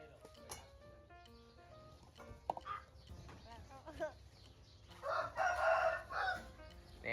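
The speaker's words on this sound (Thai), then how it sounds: "ตีปีกตีปีก เอาขัน" A rooster crows loudly and close at a farm while people talk and a voice is heard, with other chickens clucking in the background.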